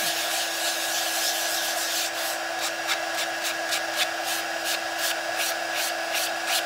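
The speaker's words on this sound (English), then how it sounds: "So let's just sand this one up." Hand sanding of a small wooden Christmas craft piece, heard as a steady, close, continuous scratchy rub with a faint rhythmic stroking toward the end and no talking.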